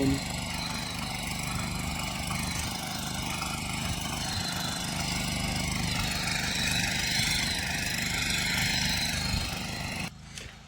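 The engine of a small farm tractor runs steadily in a field, a continuous mid-pitched drone that holds nearly constant loudness throughout before it dips briefly near the end.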